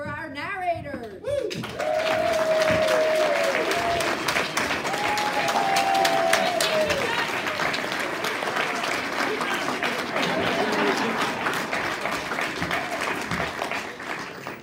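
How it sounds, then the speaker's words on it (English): Audience applause for the narrators at a stage production of A Midsummer Night's Dream, sustained dense clapping from a crowd that swells after a brief voice, with a few whistles or cheers over it. "Give a round of applause for our narrators."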